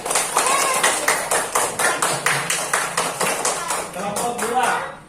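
A classroom group claps together for group 3, with steady, evenly spaced claps at roughly three per second for about five seconds. Voices murmur underneath.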